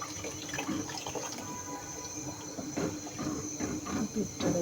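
Liquid, apparently milk, is poured for a pitha recipe, a soft uneven splashing and trickling that runs for several seconds at moderate closeness.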